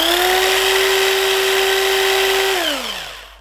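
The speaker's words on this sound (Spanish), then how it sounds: "Este motor puede generar lo mismo que consume, hasta 15 amperes." An electric motor spun up as a generator gives a steady, loud electric whine with bright harmonic tones, running evenly for about two and a half seconds before winding down in falling pitch as it slows.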